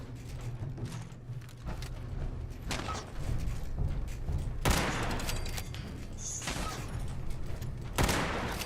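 Lever-action rifle fire in the video game Fallout 76: a few sharp, loud shots at irregular intervals over steady game ambience and mechanical clatter.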